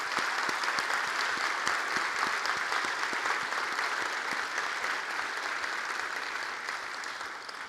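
An audience at an awards event applauds warmly, a dense sustained clatter of many clapping hands that holds steady and slowly fades toward the end, with no talking over it.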